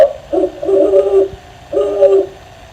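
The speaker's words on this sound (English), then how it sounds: "O is for owl." An owl hoots twice in clear, loud, drawn-out calls separated by a short pause, with no voices over it.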